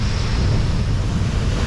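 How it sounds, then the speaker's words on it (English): Ocean waves crash on a Hawaiian shore near a tide pool, a steady close roar of surf with heavy wind rumble across the microphone, continuous and loud with no talk. "Got the waves crashing behind me."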